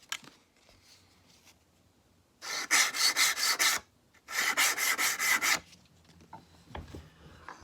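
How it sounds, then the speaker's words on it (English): Sanding the corners of a handmade wooden beard comb, two loud, close bursts of quick rhythmic rasping strokes separated by a short pause, with faint rubbing before and after. "All right, so that was basically sanded in on all 4 corners"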